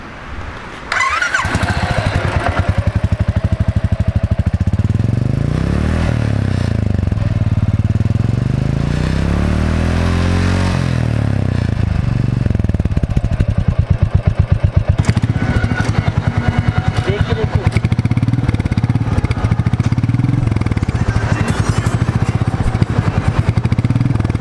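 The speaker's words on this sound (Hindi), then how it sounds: "तो अब दोनों बाइकों का एग्जॉस्ट साउंड देखते हैं किसमें कितना ज़्यादा है" A Royal Enfield 350 motorcycle engine idles with a deep, steady exhaust rumble, then revs up and down several times, loud and close, with no talking.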